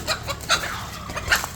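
An agitated chicken clucks outside a Catholic church in Dauin, Philippines, in a few sharp, close bursts with short pauses between them.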